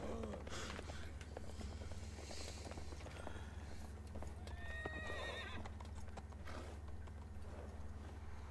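Horses neigh and whinny amid rhythmic hoof clip-clop in the video game Shadow of the Colossus, with clear whinnies over steady clopping and mechanical game sounds, no talk.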